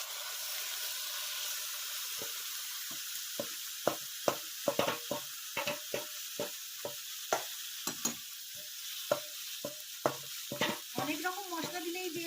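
Mutton sizzles steadily in a hot wok while a spatula scrapes and stirs in sharp, repeated strokes, close and fairly loud, with no talking.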